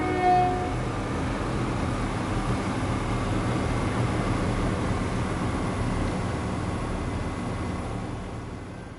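Continuous low rumble of a Class 170 diesel train engine in Train Sim World 5, running steadily on the East Coast Main Line, loud and constant, fading slightly toward the end.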